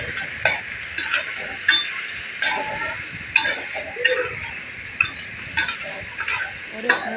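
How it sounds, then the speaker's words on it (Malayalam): Cherry pickle frying in oil in a pan, stirred with a utensil: a steady sizzle under repeated scraping and clicking strokes at an even, unhurried rhythm, close and moderately loud. "മൂന്നാല് മിനിറ്റ് നമുക്ക് ഇതുപോലെ ഒന്ന് ഇളക്കി കൊടുക്കാം"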